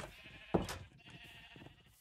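Sheep bleat in a video game: one sharp, close bleat near the start, followed by a softer, drawn-out bleat against quiet background game sounds.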